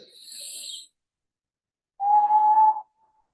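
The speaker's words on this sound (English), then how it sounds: "exhale through the puckered lips, and try to create a whistle sound" A soft breathy hiss, then after a pause a clear sustained whistle lasting under a second, made by blowing through pursed lips.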